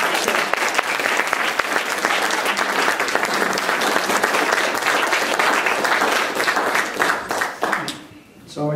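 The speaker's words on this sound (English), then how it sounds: "let's give a big round of welcoming applause to Dr. Kim" An audience gives sustained, dense applause as a speaker named Dr. Kim is welcomed at Unity. The clapping stays loud and continuous for most of the stretch, then thins and dies away at the end.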